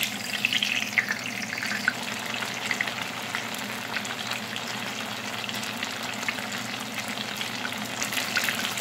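Already-steamed tofu fries a second time in a pan for an oyster mushroom stir fry, giving a loud, dense, continuous sizzle with scattered crackles and pops throughout, no talking.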